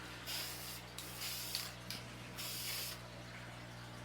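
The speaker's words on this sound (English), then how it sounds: "for an edge, that's where I like my spray can, or rattle can as some people call it" Rattle spray can hissing polyurethane along an edge in several bursts with short pauses between them, a steady low hum running underneath, fairly faint and close.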